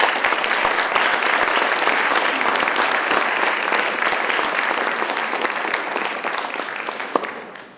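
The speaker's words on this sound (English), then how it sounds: "Please give them all a round of applause." Dense, steady applause from a large crowd for a marching band at a school event, loud and sustained before slowly tapering off near the end, with a few voices faintly mixed in.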